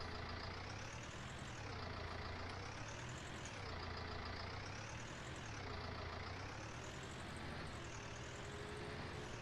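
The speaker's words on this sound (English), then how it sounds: "Start her up. Got a nice rumble to that engine." A tractor engine in Farming Simulator 19 rumbles steadily and loudly with a slow rising and falling drone, heard alone and close without any talk.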